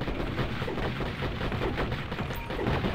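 Rapid bursts of tank cannon and gunfire in a Metal Slug-style arcade game inside GTA Online's casino, dense and continuous for the whole stretch, with explosions layered over game noise.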